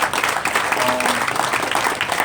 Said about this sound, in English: So clap it up for just all the videos